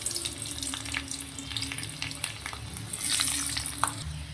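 Chopped garlic fries in hot oil for prawn masala, with a steady close crackle and sizzle and scattered light stirring scrapes, swelling slightly toward the end, with no talk.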